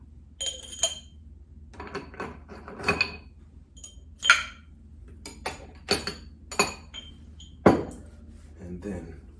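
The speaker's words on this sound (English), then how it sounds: "So first we're going to put the ice in our highball." Ice cubes dropped into a highball glass, a series of sharp close clinks and rattles spaced irregularly, with a voice talking between them.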